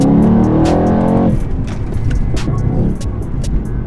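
A Mansory Stealthy Mercedes S63 sedan engine revs loud and close, a rising roar that cuts off after about a second, then settles into a rougher, lower burble with sharp exhaust pops.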